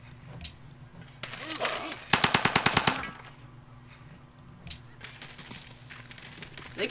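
Ranged unit gunfire in the strategy game Civilization V, a loud burst of rapid repeated shots in a fast even rhythm after a stretch of noisy battle sound, then more scattered combat noise.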